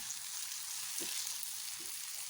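Chopped tomato being mixed into onions in a hot pan for an Afghani omelette gives a steady, hissing sizzle with two soft stirring scrapes, no voices.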